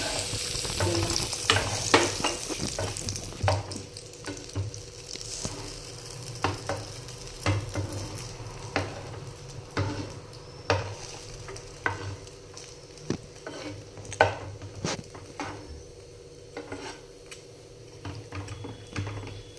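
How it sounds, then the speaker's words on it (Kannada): A simple sandwich roasting in a pan gives a steady low sizzle broken by frequent sharp scraping and tapping clicks, close up, with no talking. "ನೋಡ್ರಿ ಈ ಥರ ರೋಸ್ಟ್ ಆಗಬೇಕಿದೆ."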